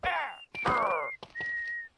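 Leprechaun creatures in the Minecraft mod Nightmare Craft whistle in three short, clear, wavering phrases with brief gaps between them, loud and close, with no talking.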